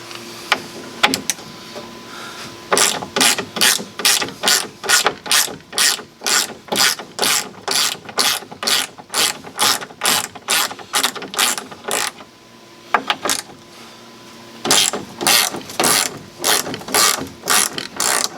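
Hand ratchet backing bolts out of the door window channel on a 1964 VW, loud close rapid clicking bursts repeated in quick strokes, with a short pause before a final run of clicks.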